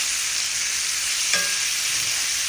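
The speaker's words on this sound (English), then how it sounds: "we kind of rotate them around just a little bit as they cook" Lamb chops sizzle steadily in a hot cast iron pan, a constant broadband frying hiss with one brief clink or scrape of the chops being moved midway.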